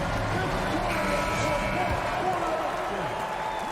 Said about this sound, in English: please give a big round of applause for your Grizzlies youth dance